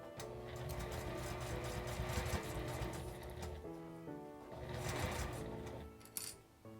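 Sewing machine running a seam on a small round zipper pouch, a continuous close whir with slight changes in pace and a brief stop near the end.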